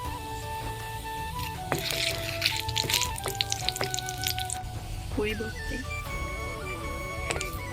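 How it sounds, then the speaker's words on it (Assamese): Whole cumin seeds and a dried chili sizzle and crackle in hot oil, a steady frying hiss with sharp popping bursts and clatter of stirring, while a voice talks over it. "দুটামান গোটা জিৰা দিছোঁ। এটা শুকান জলকীয়া দি দিছোঁ।"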